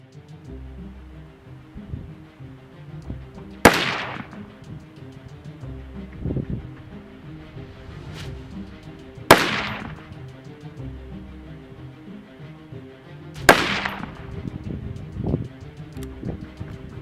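Three sharp rifle shots of .308 ZQI ammunition ring out several seconds apart at a 100-yard range, each a sudden crack with a short decaying tail over quiet outdoor background.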